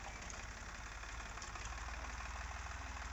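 A Powertrac tractor hitched to a laser land leveler idles with a steady, rapid low-pitched chugging throb, faint and even throughout, with no voices.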